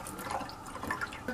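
Water is poured into an opened food can to rinse it, giving short, splashy trickling and dripping sounds close by.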